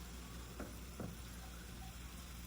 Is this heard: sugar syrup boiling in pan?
yes